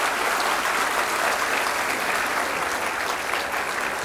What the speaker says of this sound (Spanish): por los aplausos adelantados.